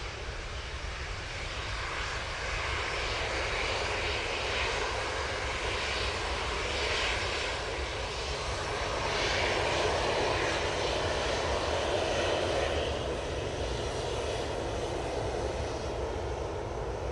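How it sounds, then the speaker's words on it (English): An AirTanker aircraft taxis at Manchester Airport, its engines holding a steady, loud roar throughout with a slight swell in the middle. "Air tanker is on the taxi towards us."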